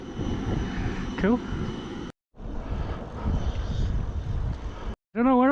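An airplane at Skiathos airport gives a steady, broad engine roar heard from nearby during an e-bike ride, broken by short cuts, with a person briefly talking over it.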